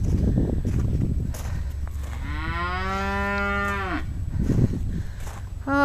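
A Jersey calf on a frosty farm gives one long, clear moo from close by, over the crunch and bump of someone walking on the uneven frozen ground.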